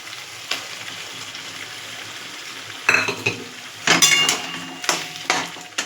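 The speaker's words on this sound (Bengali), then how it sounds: "এটা দেওয়ার পর কিছুক্ষণ আমরা মিডিয়াম আঁচে রেখে নাড়াচাড়া করতে থাকবো" A coconut, poppy seed and melon seed paste is stirred in oil over medium heat for a vegetarian soybean dish. A low sizzle runs underneath while the spatula scrapes and clanks against the pan in several sharp bursts.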